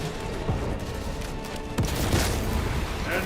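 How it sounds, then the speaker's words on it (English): A frag grenade explosion in the video game Space Marine 2, heard as a dense, rumbling burst of combat noise with a sharper blast partway through and continuous gunfire-like crackle throughout. "Frag grenade deployed."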